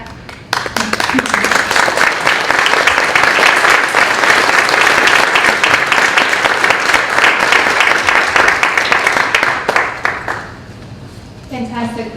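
A loud, sustained round of audience applause at a talk on Indigenous tattoo practices fills about ten seconds, then drops away abruptly, leaving a brief voice at the end.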